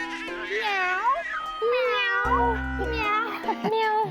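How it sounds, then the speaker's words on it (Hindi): A cat meows several times in a row, drawn-out rising and falling cries heard up close, with a low voice briefly speaking underneath. "अच्छा, बिल्ली।"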